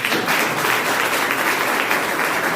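Loud, dense applause from a large audience at a business gathering for the E-biotorium company, a continuous roar of clapping that holds steady from start to finish with no talking.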